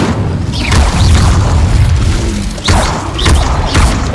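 Incendio fire spell cast in the Hogwarts Legacy video game, a loud whooshing fiery boom with crackling bursts, followed by a second strong magical blast partway through, close and dense, with no talking.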